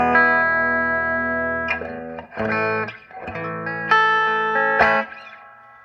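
Electric guitar played through a Pignose G60RV amp with heavy distortion and reverb. Sustained chords ring out, then short, choppy strummed bursts follow with brief gaps between them.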